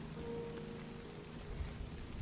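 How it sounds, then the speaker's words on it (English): Soft rain patters steadily on a tent in the dark early morning, a continuous hiss with faint low rumbling underneath, fairly quiet and with no voices. "You hear the low rumbling of thunder in the sky above you, soft rain on the tent."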